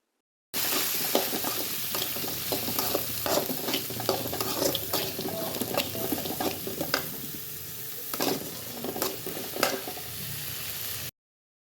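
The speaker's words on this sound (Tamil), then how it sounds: "பொடியாக நறுக்கி வச்ச கேப்சிகம் ஆட் பண்ணிக்கோங்க." Chopped capsicum, onion and roasted peanuts sautéing in a pan, a steady close sizzle broken by repeated scraping stir strokes throughout, with no talking.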